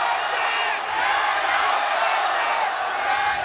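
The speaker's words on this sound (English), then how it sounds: "The capacity crowd. Both cheering for WE and RNG" A capacity arena crowd at the LPL Spring 2017 grand finals of a League of Legends esports match between WE and RNG, roaring and cheering in a steady loud wash, with a commentator talking over it.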